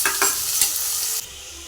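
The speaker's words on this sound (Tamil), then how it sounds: "இப்போ நறுக்கி வச்சுருக்க வெங்காயம் ஃபஸ்ட்டு ஆட் பண்ண போகிறேன்" Chopped onions sizzle loudly in a hot pan for kadalai muttai adai kulambu, a steady close frying hiss with stirring scrapes that drops in level near the end.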